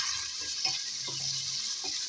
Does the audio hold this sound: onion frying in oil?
yes